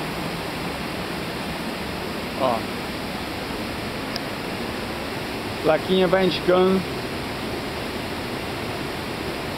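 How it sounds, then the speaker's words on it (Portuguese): A waterfall on a forest trail gives a steady broadband rush of falling water at constant loudness, with a brief stretch of a person speaking over it. "Estamos chegando na 12ª cachoeira."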